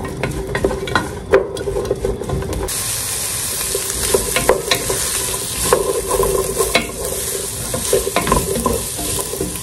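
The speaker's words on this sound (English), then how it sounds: "I'm just gonna brown that off a bit." Celery browns in a hot pan with a continuous sizzle that grows fuller partway through, punctuated by scattered clinks and stirring scrapes close to the microphone.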